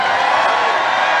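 A political rally crowd in Minnesota cheering and whooping for Jason Lewis, a dense, loud, sustained roar of many voices.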